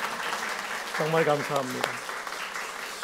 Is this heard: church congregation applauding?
yes